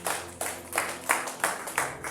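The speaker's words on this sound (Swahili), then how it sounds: "Mshangilie Bwana kwa makofi." Church congregation clapping hands together in praise, a steady rhythmic series of loud bursts of many palms at roughly one per third of a second, filling the room.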